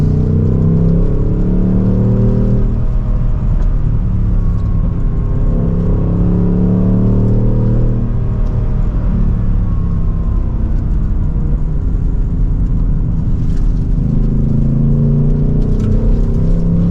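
A 2024 Ford Mustang GT Convertible engine drones steadily and rises in pitch as it accelerates from second gear through the gears, loud and close throughout with no talking.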